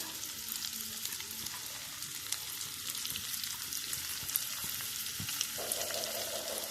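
Kunafa pastry frying in melted butter in a pan, with a steady close sizzle and a few light stirring clicks running throughout without any talk.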